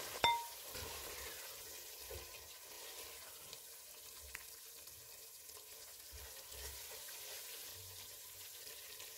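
Masala for biryani sizzles gently in a pan on low to medium heat, a soft, continuous frying hiss with faint stirring scrapes and small pops, quiet and close.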